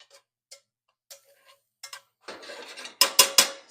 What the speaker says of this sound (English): I'm going to stir that up real quick